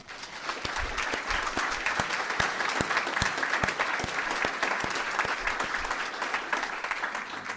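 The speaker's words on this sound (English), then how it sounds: "So please give him a round of applause" A conference audience gives steady, full applause for Paul at an annual meeting keynote session, with a few sharper individual claps standing out above the dense wash.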